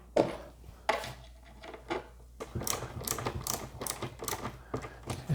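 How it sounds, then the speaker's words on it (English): A screw being driven into the back floor of a minivan during a camping conversion, heard as short mechanical whirring and ratcheting bursts in irregular spurts, fairly close and moderately loud. "get another screw in there"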